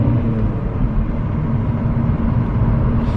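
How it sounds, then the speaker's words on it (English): A Seat Ibiza FR 6L drives along with its turbo drawing in air, a steady loud low rumble of engine and road noise with a faint rising hiss near the end. "You can hear the turbo as well, which is something I'm really, really happy about. Like, you can hear it sucking in the air."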